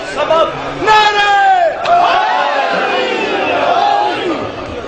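A crowd at a religious gathering chants slogans in unison, loud, close voices rising and falling together in a continuous chorus for several seconds.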